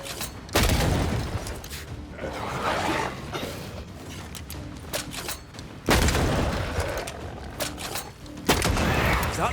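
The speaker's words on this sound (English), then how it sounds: "That corpse is gonna shoot." Gunfire from an undead corpse in the video game Banishers: Ghosts of New Eden, with several heavy booming shots and mechanical clatter over a dense, noisy game soundscape.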